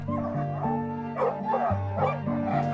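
Sled dogs in northern Sweden, harnessed to a buggy because there is too little snow, bark, yip and whine continuously and close by in an eager, overlapping chorus.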